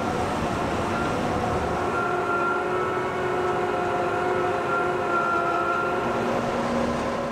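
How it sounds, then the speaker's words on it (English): A Krone Premos 5000 pellet press runs stationary, giving off a constant mechanical drone with steady humming tones layered over a rumbling base, loud and uninterrupted throughout. "In this case, the pellet press is operated stationary."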